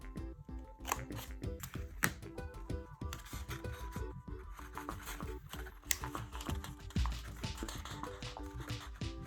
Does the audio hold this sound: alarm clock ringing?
no